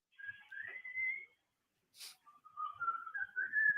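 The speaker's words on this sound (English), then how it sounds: "I love the whistling." Someone whistles a wandering tune in two phrases, rising and falling, with a short breathy sound between them, fairly quiet in a calm room.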